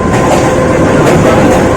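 A moving passenger train heading toward Panvel fills the space with loud, continuous rumble and rattling wheel noise, a steady close roar from inside the carriage with no voices.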